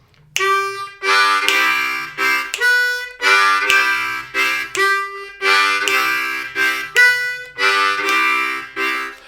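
Harmonica plays a rhythmic pattern, bright single notes alternating with fuller breathy chords in steady repeating bursts, close and loud with no talking.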